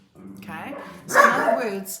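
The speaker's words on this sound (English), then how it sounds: "please excuse my dogs, always have to have their say." Pet dogs barking and yipping at close range in a home, a few short barks mixed in with someone talking over them.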